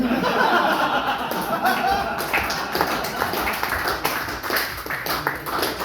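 An audience claps and chuckles for several seconds, a steady patter of applause mixed with scattered laughter.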